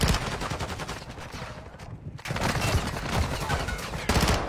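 Rapid automatic gunfire in the video game Call of Duty: Warzone 2.0, dense loud bursts that cut out briefly near the middle, then resume heavily, with a faint voice underneath.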